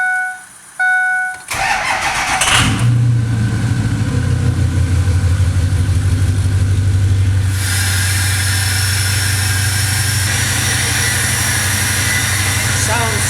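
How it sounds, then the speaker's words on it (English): A Ford 6.0 Powerstroke diesel truck with 8-inch stacks cranks and fires up, settling into a loud, close, clattering diesel rumble with a brief rev, heard alone without talk. "This truck just sounds so good with those 8-inch stacks."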